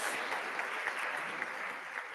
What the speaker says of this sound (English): Round of applause for all of our panelists.